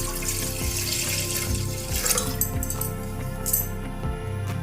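A glass of water is poured into a hot pressure cooker while making Odia dalma, producing a steady close splashing rush with faint clinks and no talking.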